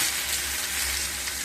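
Pomfret fish frying in oil in a pan after being flipped, a steady close sizzle holding evenly throughout with no talk.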